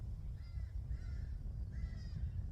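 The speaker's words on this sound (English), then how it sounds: "There's a group of crows in the tree and I don't know what they're going through." Several crows caw from a tree in a few harsh, fairly distant bursts over steady low rumbling background noise.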